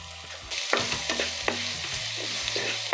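Onion and curry leaves tossed into a hot pan of ginger frying in oil burst into a loud, steady sizzle, with a few sharp scrapes and stirs of a spoon over the crackle and no one talking.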